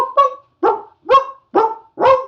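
A dog barks five times in an even rhythm, loud and close, with a short pause between each bark and no other sound.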